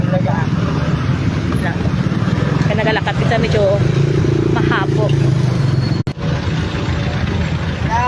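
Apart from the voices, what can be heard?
heavy road traffic near flyover, cars and motorcycles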